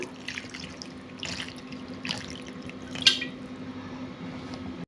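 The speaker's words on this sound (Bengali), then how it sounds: "প্রথমে এই ফলগুলোকে আমি ভালোভাবে ধুয়ে নেব" Rosella fruits being rinsed by hand under a running kitchen tap, with a steady low stream of water punctuated by several louder splashes and drips as the fruits are turned over, no talking.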